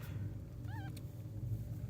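A kitten gives a single short, rising-and-falling meow over a steady low background rumble, fairly faint and alone without any talking.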